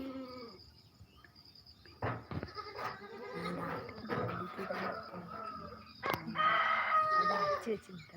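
A lamb in a garden farm enclosure bleats in short bursts, with roosters crowing and hens clucking around it; the calls are moderately close and grow louder toward the end.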